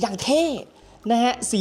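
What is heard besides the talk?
No distinct noise like a dog, phone or traffic.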